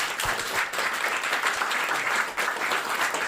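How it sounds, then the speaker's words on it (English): A live audience at the Teletext Sofa Club event in Harrow gives a round of applause, a dense, steady patter of many hands clapping at moderate volume. "So a big round of applause wherever they are."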